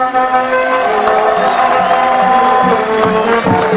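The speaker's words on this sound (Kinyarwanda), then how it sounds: "Ndashaka amashyi menshi" A large home crowd at a Gisagara FC versus Mukura VSL football match in Gisagara makes a dense, continuous roar of cheering and clapping, with sustained horn-like tones running through it.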